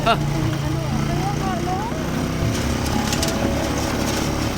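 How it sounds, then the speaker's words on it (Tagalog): A motorcycle engine labours steadily while riding over a rough, difficult road in rural Cagayan Valley, a continuous droning rumble close by, with people talking over it. "Talagang laban yung motor, oh."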